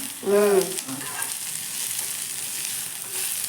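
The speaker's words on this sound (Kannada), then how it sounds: "ಯಾವ ಥರ ಫ್ರೈ ಮಾಡ್ತಾರೆ ಮಮ್ಮಿಯವ್ರ ನೋಡ್ರಿ" Onions frying in a pan for chutney give a steady soft sizzle. A brief tonal squeak and a clunk come near the start, then a constant hiss stays at an even level throughout.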